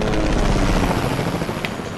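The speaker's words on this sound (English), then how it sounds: "What's that chopper noise?" A helicopter flying overhead in the Fortnite video game, a loud, steady rotor chop and whir throughout, with no talking.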